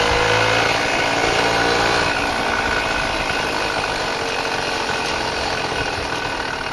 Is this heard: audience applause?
no